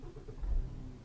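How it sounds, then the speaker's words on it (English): A Volvo FH16 750 truck engine starts in Euro Truck Simulator 2, a brief, low, rumbling burst that rises above a quiet background hum in the middle of the short moment. "start the engine"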